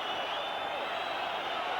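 A football crowd of just over 13,000 at an FA Cup third-round tie, Welsh fans whistling for the end of the match, a steady shrill high-pitched whistling mass filling the stadium throughout.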